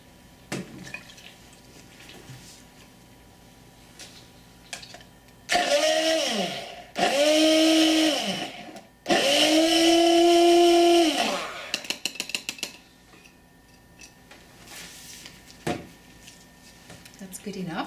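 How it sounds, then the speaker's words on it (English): A stick blender buzzes in three short bursts mixing self-tanning mousse liquid, its motor pitch dipping and rising, with quiet clatter and a voice between bursts. "I believe we need a stick blender"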